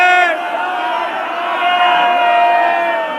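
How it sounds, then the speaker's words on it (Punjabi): A gathered Sikh congregation in a Punjab village roars the jakara war cry in unison, a loud sustained chorus of many voices rising after a lead call and holding for several seconds. "ਇਹ ਇੱਕ ਵਾਰੀ ਸੋ ਨਿਹਾਲ ਦਾ ਜਕਾਰਾ ਜ਼ਰੂਰ ਛੱਡ ਦਿਓ"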